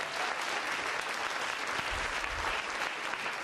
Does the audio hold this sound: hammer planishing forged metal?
no